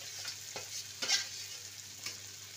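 Fried soy mince sizzles steadily in a pan, with a few scraping stirs of a spatula sounding at intervals over the continuous hiss.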